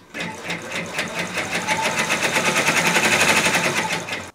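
An embroidery machine stitches a placement outline for a dachshund tote design, a loud, fast, steady mechanical chatter of needle strokes running continuously at close range with no talk.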